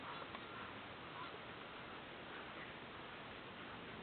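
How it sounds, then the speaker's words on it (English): Geese walking away through a pear orchard honk repeatedly, very faint and distant against a steady background hiss, with no voices during the calls. "Honk, honk, honk. There they go, the geese are all walking away."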